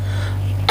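A presenter with a cold and flu gives a single short, harsh cough that bursts out right at the end after a moment of low hum.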